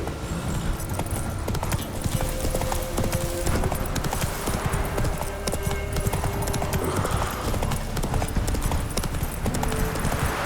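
Continuous galloping hoofbeats of a horse in The Witcher 3: Wild Hunt, a fast, dense clip-clop rhythm with game ambience and a faint whinny underneath, steady and loud throughout.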